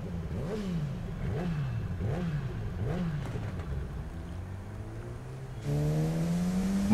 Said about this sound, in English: That sounds like a motorcycle